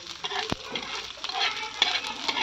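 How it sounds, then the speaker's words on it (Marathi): Coriander seeds, cumin and bay leaf roasting in a little oil in a pan, giving a soft sizzle with scraping stir strokes and a few light clinks, close and unaccompanied by talk. "आपण आता थोडंसं तेल टाकून धने जिरे आणि तेजपान पण भाजून घेणार आहोत"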